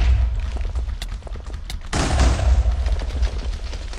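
Rapid weapon fire in Minecraft with the Superheroes Unlimited mod crackles as a quick run of sharp shots, then a loud blast erupts about halfway and is followed by continued dense firing.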